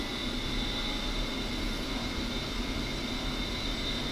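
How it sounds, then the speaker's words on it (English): A-10C jet engines spooling up in the DCS flight simulator game: a steady, dense roar with a high whining tone on top, loud and unbroken throughout, no voices. "now we throttle up"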